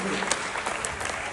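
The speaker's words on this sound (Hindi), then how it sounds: "एक बार तालियों से आदेशित कर दीजिए।" An audience claps together at a Hindi comic poetry gathering held after Holi. The short, dense burst of crowd applause carries faint voices mixed in beneath it.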